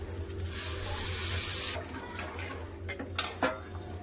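Water pours into a cooking pot of rice for about a second and a half, a close steady gush, followed by quieter clinks and knocks of the pot and utensils.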